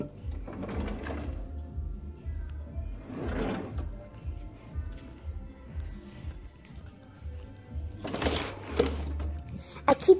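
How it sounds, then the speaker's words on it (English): Kitchen drawers slide open and shut several times in separate bursts of rattling and knocking, with a steady low hum of background music underneath. "I keep getting the wrong drawers."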